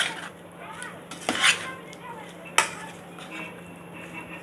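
Utensil scraping and clinking in a pan as an eggplant dish is stirred and turned over, a few sharp metallic knocks standing out over soft, close kitchen background.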